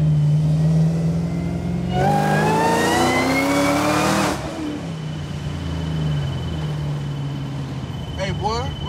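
An LT4-swapped 1975 Caprice Classic with a 10-speed transmission accelerates hard, its engine climbing loudly in pitch before a shift drops it back to a strong, steady drone. Voices are heard faintly inside the car.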